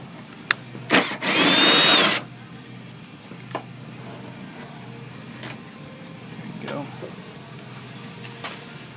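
A power tool whirs in one loud two-second burst while loosening a 10mm bolt on a 2006-2010 Dodge Charger front bumper, followed by quieter clicks and tapping against a low background hum.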